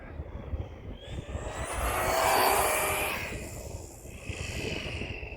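A motorcycle engine warming up runs as a steady broadband drone, swelling to a louder peak midway and then easing back, with no voices.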